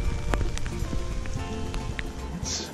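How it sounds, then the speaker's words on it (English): Rain falling at Sitka National Historical Park among the totem poles, a close, steady patter of drops striking surfaces with scattered sharper taps and faint background rumble. "like I said, it's raining again"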